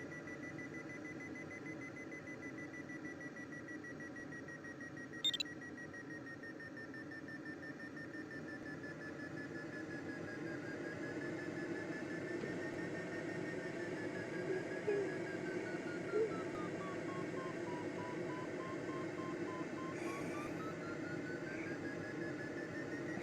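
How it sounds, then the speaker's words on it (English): Variometer in the Condor 2 glider flight simulator, sounding a steady wavering electronic tone that rises and falls over a constant airy cockpit hum, with a couple of brief clicks along the way. "you can hear my variometer meter going up. So when it's beeping like that"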